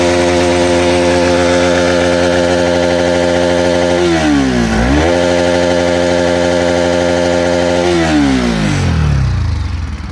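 Close Bajaj Pulsar NS200 ABS motorcycle engine held at high revs, dipping sharply once midway before climbing back, then falling away as the throttle is released at the end.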